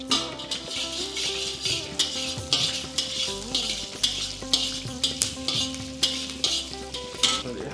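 Sliced ginger, garlic and cumin seeds sizzle loudly in hot oil for a wedding-style paneer pulao, with a spoon clinking against the pan in a fairly regular stirring rhythm over a faint tonal background.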